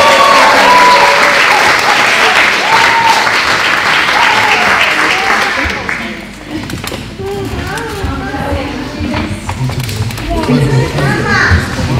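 Audience applause and cheering fill a hall for a church testimony event, loud and sustained at first, then easing to scattered claps, whoops and children's voices mingling with chatter.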